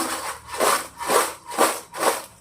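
Raw plantain chips tossed with chili powder and a pinch of asafoetida, giving four rhythmic dry scraping, rustling strokes about half a second apart, close and moderately loud with no talk.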